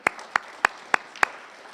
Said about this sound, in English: let's give a big round of applause for their support